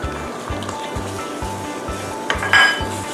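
Ladle stirring and breaking up yellow curry paste in water in a pot for Thai sour king mackerel soup, with steady rhythmic scraping knocks against the pot and a brief metallic clink near the end.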